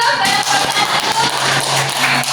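A short burst of group clapping in a classroom during peer teaching, close and fairly loud, a brief ragged patter from a small group of students.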